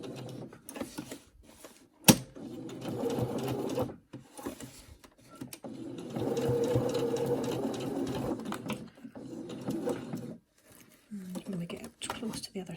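A sewing machine stitches back and forth across a fabric face mask in short whirring runs, with quiet pauses and a sharp click, while a person talks softly nearby.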